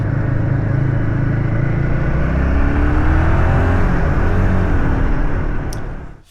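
Royal Enfield Himalayan 450 motorcycle engine pulling up a hill, a loud steady drone with shifting pitch as the bike climbs, fading off at the very end.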